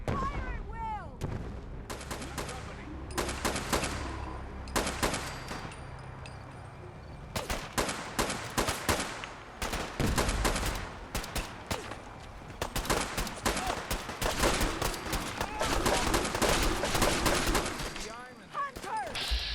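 Dense bursts of gunfire crackle through a Fallout 4 battle against Gulpers at Far Harbor: rapid volleys of close, loud shots cluster in waves with brief lulls, while shouted voices come through between the blasts.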